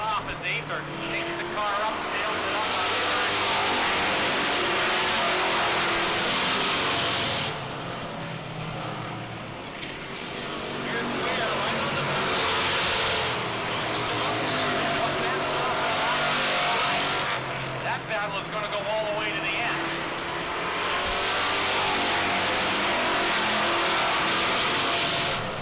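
Race cars at a New England short-track race roar past slower lapped cars, engines rising and fading as they pass, loud and close, with a commentator talking over them.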